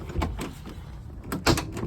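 A Mercedes 250GD G-Wagon door is handled and shut, with a few sharp metallic clunks and latch clicks, the loudest solid slam near the end, heard close up.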